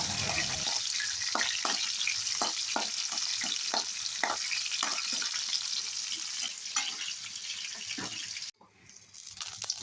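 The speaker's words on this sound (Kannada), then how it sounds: "ಎರಡು ದೊಡ್ಡ ಈರುಳ್ಳಿಯನ್ನು ಈ ಥರ ಕಟ್ ಮಾಡಿಟ್ಟಿದ್ದೀನಿ ಎಣ್ಣೆಯಲ್ಲಿ ಚೆನ್ನಾಗಿ ಫ್ರೈ ಮಾಡ್ತೀನಿ ರೆಡ್ಡಿಶ್ ಬರೋ ತನಕ" Onions and garlic fry in oil in two pans at once, a continuous close sizzle broken by repeated scraping stirs, ending with a brief clatter.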